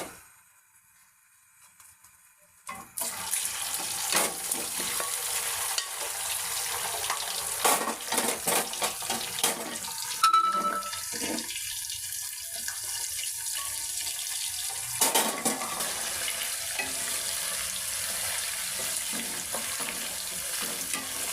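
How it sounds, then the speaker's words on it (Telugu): Chicken for a Godavari-style gongura chicken pickle drops into hot oil, setting off a loud, steady sizzle and bubbling crackle that runs continuously after a quiet start, with occasional stirring clatter. "ఇప్పుడు ఆయిల్ హీట్ ఎక్కిపోయింది అందులో చికెన్ వేసేసుకుంటాం"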